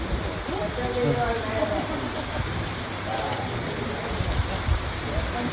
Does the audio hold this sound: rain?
yes